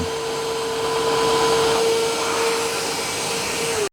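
A Tineco hard floor cleaner running on high mode gives a loud, steady motor whine with an even drone that holds for several seconds before cutting off abruptly at the end.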